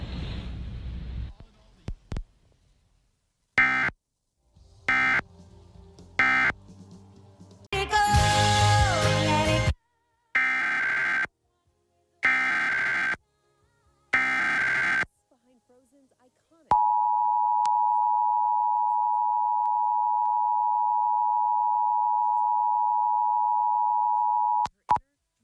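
Emergency Alert System test on a station in Arkansas: bursts of harsh digital header tones in short repeated blocks, then a long steady alert tone lasting several seconds, closed by brief end-of-message bursts.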